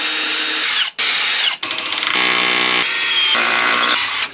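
An SDS drill bores pilot holes into concrete during a lean-to shed build, loud and close, running in several sustained bursts with brief pauses between them and a steady hammering whine.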